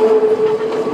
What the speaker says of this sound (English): I'm on a train from Ella to Haputale in Sri Lanka